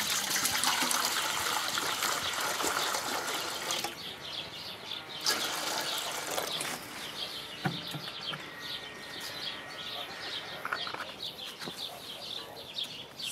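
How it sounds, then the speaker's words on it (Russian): Water pours into a pot and splashes in uneven gushes and trickles, with faint birds chirping in the background outdoors. "Заливаем воду."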